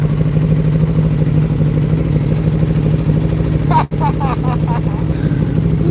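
A Kawasaki H2 motorcycle engine runs nearby with a steady, loud, humming drone. It cuts out for a split second partway through, and a brief clatter follows.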